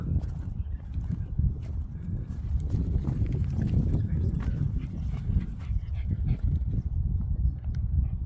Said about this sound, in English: There's a big dog.